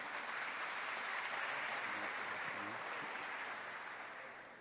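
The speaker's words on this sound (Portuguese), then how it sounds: "Você pode aplaudir o Senhor Jesus?" Church congregation applauding in a sustained, dense round of clapping that fills the room evenly and then gradually fades toward the end.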